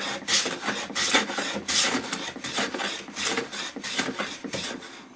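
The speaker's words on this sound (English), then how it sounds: "So let's quickly take some shavings and see." Wood shavings peeled by a Luban No. 62 low-angle hand plane, a steady series of close, raspy strokes repeating in a quick rhythm with no talking.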